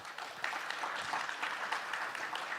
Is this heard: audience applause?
yes